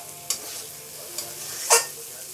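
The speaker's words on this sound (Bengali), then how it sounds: "আর একটু হবে, ভাজা ভাজা করব আর একটু।" Ridge gourd fries in oil in a pan, giving a soft continuous sizzle, with three sharp scrapes of a spoon stirring the pan, the last one loudest, and no voices.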